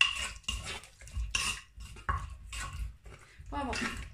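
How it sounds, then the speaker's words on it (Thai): A spoon scrapes and clinks around a bowl of grilled-fish dipping sauce made with boiled water, in loud, close, repeated stirring strokes with short pauses between them. "คนอีกนิดนึง"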